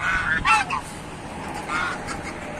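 A goose honks several times in quick succession, then again after a short pause, loud and nearby over faint background noise.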